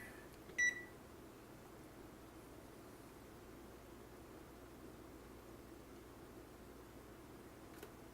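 A kitchen timer is set while baking a vanilla cake, giving one short, sharp beep early on and a faint blip near the end over a low, steady appliance hum.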